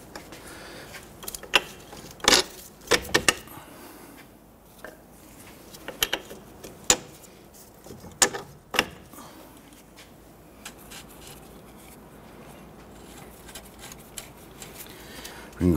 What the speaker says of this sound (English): Let's work our strut bolt back into the knuckle here.